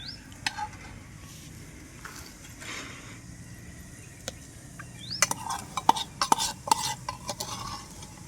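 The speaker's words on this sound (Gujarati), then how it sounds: "તો હવે આને આપણે ટોમેટોના અંદર મિક્સ કરી દઈએ." Spoon stirring red chutney masala into chopped tomatoes in a pan for tomato chutney, with scattered scraping clinks and soft sizzle, busier and louder in the second half.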